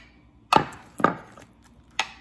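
A knife slicing through a strawberry pretzel salad dessert on a board, three crisp separate cuts spaced about half a second apart, close by and clear with no talking.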